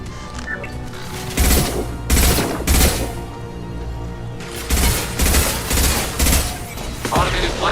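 An overridden turret in Mass Effect 2 fires in short, loud automatic bursts, two clusters of rapid shots separated by a brief lull, with game voices underneath.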